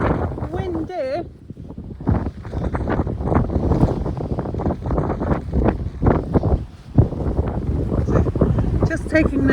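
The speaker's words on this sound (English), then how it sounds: "Whoa! Windy!" Strong wind buffets the microphone outdoors on a rainy day, a loud continuous roar with gusty surges and a brief lull near the middle, while a person talks over it.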